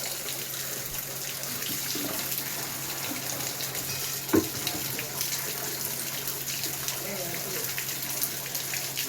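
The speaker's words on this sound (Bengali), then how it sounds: "এই কল দিয়ে তো কিসের জন্য জল পড়ছে আমি জানি না" Water pours continuously from open taps left running in a home, a steady near splashing hiss with a brief knock midway and faint background activity.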